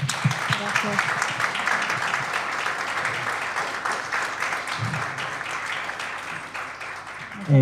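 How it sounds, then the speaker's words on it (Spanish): Audience applause for director Francisca Alegría after a screening of her film, a steady dense wash of clapping held at even loudness for several seconds with a few brief voices underneath. "Un fuerte aplauso, por favor."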